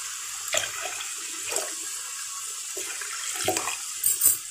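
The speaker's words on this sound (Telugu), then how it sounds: "మనకి ఎంత వాటర్ కావాలో అంత వాటర్ పోసుకోవాలన్నమాట" Water is poured into a pot for a thin lentil dal, a close gurgling splash that swells and eases in several uneven bursts over about four seconds, with no talking.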